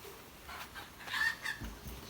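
Ducks at feeding time give a few faint, short calls in quick succession, distant and soft over a quiet background.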